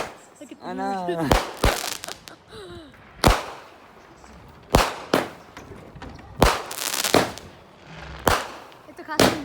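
Backyard Fourth of July fireworks go off in a rapid series of sharp, loud bangs and crackles, several close blasts spaced a second or so apart, with people talking and exclaiming between them.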